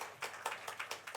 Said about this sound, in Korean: 네, 우리 박수로 환영하겠습니다.